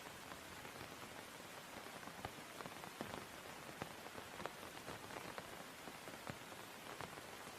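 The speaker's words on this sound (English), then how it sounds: "The raindrops make soft tapping sounds" Steady soft rain pattering on leaves and ground, with dense scattered drops tapping close by and a constant gentle hiss throughout, no voices.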